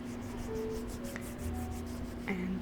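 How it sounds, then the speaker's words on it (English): Hands rub together softly and steadily in a quiet room, a faint continuous swishing friction over low background hum and occasional soft tones. "These hand sounds may be able to help."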